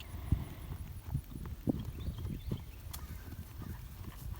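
Soft rhythmic hoofbeats thud in a rolling three-beat pattern, a horse cantering during dressage schooling at moderate distance on soft ground, with no voices.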